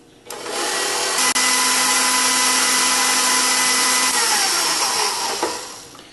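Stand mixer with a flat paddle creaming butter and sugar for pound cake, a steady loud whirring motor hum running nearly the whole time with a faint scrape near the end.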